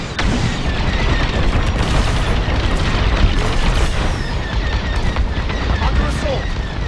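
Starfighter blasters and booming explosions in Star Wars Squadrons, a dense continuous barrage of weapons fire and blasts with occasional sharper shots standing out, loud and close throughout.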